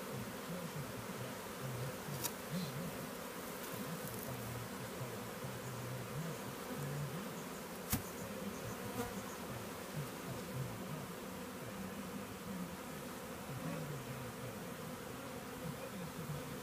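A dense, steady drone of many bees buzzing together, continuous and close, with no voices.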